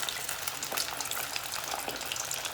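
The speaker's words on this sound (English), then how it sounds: "Essentially just fry the shrimp." Shrimp frying in hot oil for salt and pepper shrimp, a steady soft sizzle with crackling pops throughout, fairly quiet and close, no talking.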